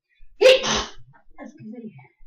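A single sharp sneeze bursts out nearby, followed by a few quiet murmured words.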